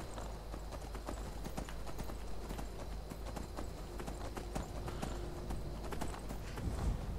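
Horse hooves clip-clop steadily and continuously in a Morrowind-style fantasy video game, the rhythmic footfalls moving along under faint ambient game sound, with no talking.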